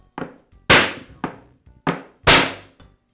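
A Bostitch nail gun is knocked against a piece of 2x4 wood, giving six sharp, close thunks in an uneven rhythm, two of them much louder and ringing, with brief pauses between.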